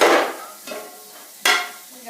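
Rice stir-fried in a pan, with sharp scraping and clattering strokes of a utensil against the pan at irregular intervals over a faint sizzle, close and fairly loud.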